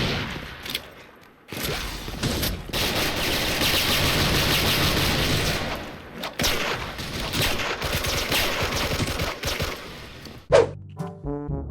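Dense automatic gunfire while hunting zombies in the online shooter Special Force, loud sustained bursts with brief gaps and a sharp impact near the end.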